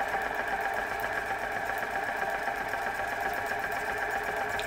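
A small Stirling hot air engine runs smoothly and steadily, with a fast, even mechanical whir and hum that never changes pace.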